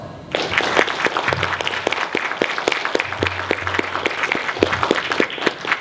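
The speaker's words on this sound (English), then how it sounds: "Please give them one more round of applause." Applause at a military retirement ceremony, a large audience clapping steadily and fairly loud, the dense patter holding evenly from start to finish after a brief quiet lead-in.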